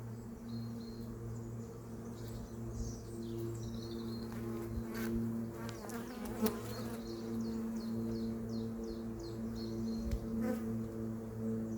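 A steady, dense drone of many honeybees buzzing around a hive, continuous and moderately loud, with faint chirps in the background.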